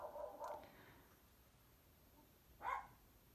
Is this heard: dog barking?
yes